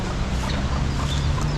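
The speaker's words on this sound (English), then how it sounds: "there's baby chicks here" Baby chicks clucking and cheeping softly at a place in Costa Rica, a steady chatter of small peeps over a dense outdoor background with no talking.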